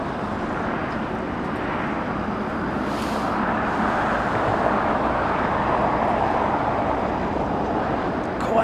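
A Qantas airliner taxis at Los Angeles airport toward the Tom Bradley terminal, its jet engines giving a steady, moderately distant roar that builds slightly over several seconds.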